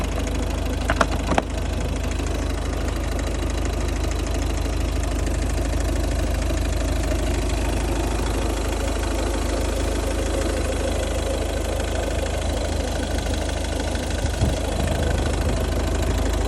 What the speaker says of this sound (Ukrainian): Моторчик працює у нас як часи.